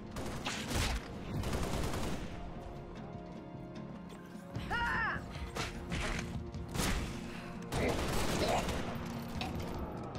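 Gunshots in the video game Halo: Reach on the ONI: Sword Base mission, scattered bursts of fire and impacts mixed with other game effects, fairly quiet overall, with some voices.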